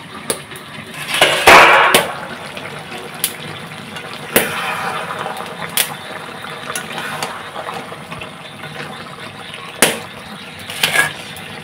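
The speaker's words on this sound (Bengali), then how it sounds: "ভেজে রাখা আলুগুলো দিয়ে দিচ্ছি।" Pre-fried potatoes tipped into spiced meat braising in a pot on a clay stove: a clattering splash and sizzle, then steady frying hiss with sharp scraping clicks of a spoon against the pot.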